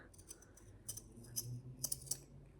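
Pinking shears snipping along the edge of a sewn fabric seam, a handful of crisp, separate cuts spread irregularly over a couple of seconds, close and fairly quiet with no talking.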